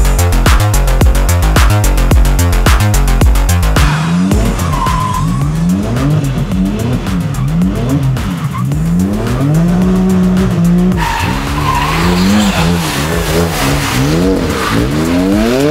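A Brabus-converted Mercedes G-Class drifts with loud squealing tires and a revving engine, wavering rises and falls of screech sustained throughout, close and continuous over heavy music-like beats at the start.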